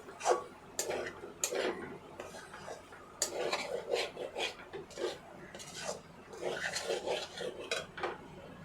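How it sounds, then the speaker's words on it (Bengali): Chicken pieces being stirred and fried in a pan for chicken fried rice, with irregular metallic scrapes and clinks of a utensil against the pan, fairly quiet and close, with no talking. "এবারে মাংসগুলি দিয়ে দিচ্ছি। নেড়েচেড়ে ভালো করে ভেজে নেব।"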